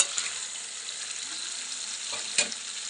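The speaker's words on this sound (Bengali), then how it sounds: "এখন এর উপরে এই যে ট্যাংরা মাছগুলো ঢেলে দেব।" Tangra fish tipped into hot oil with ground cumin in a pan, a dense crackling sizzle throughout, with a brief louder burst of spatter near the end as the fish go in; no talking.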